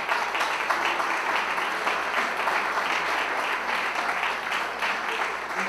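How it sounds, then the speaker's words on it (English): An audience breaks into sustained, dense applause for the chairman at an AHEPA chapter event, a steady wash of many hands clapping at an even level throughout. "I think he deserves a round of applause."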